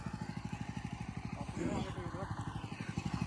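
A BCS mini rotavator engine runs at low throttle in a field, giving a steady, close, rhythmic thudding putter under people talking.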